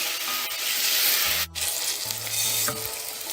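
Salted onions sauté in a pan for stuffed zucchini blossoms. The loud, constant sizzle is close and continuous, with a brief dip partway through and faint low hums underneath.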